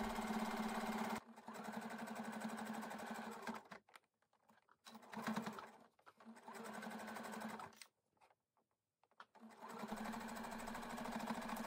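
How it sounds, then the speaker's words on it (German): A sewing machine sews a seam on fabric in several runs, a steady close whirring hum that stops and restarts with brief silent gaps between stitching passes. "Dann wird es dort mit 1 cm Nahtzugabe zusammengenäht."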